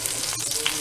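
Lumpia frying in hot oil give a brief, soft, steady sizzle and crackle, heard alone at low volume.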